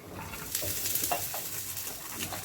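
Peas tipped onto seasoned onions frying in a pan give a steady sizzle with stirring scrapes and soft clatter, close and moderately loud, with no voices.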